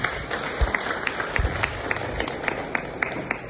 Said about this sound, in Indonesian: Tepuk tangan dulu untuk kepala desa.